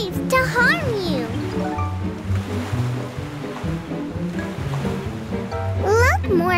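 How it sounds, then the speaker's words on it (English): Wild, surging cartoon sea waves rolling and crashing continuously under loud orchestral music, with bright whooshing swirls and occasional cartoon voices over the top. "That's why the waves are so wild."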